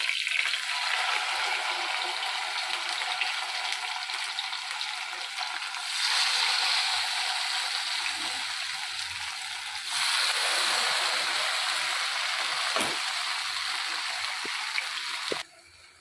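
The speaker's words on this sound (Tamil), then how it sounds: "மீன் இந்த வஞ்சரம் மீன் ஃப்ரை ஆகட்டும்" Vanjaram fish fries in a pan over a bed of curry leaves with a continuous close hiss that swells in places, broken by a couple of brief knocks near the end.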